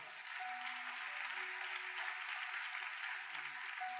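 A church congregation applauds during a worship service, a steady, even wash of many hands clapping at a distance, fairly soft and unbroken throughout.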